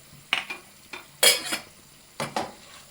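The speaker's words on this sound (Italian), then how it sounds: "saltiamo oppure giriamo con il cucchiaio che viene meglio" Spoon stirring and tossing pasta in a pan with broth, near and fairly loud: a few separate scraping, clattering strokes with short gaps, the strongest burst about midway.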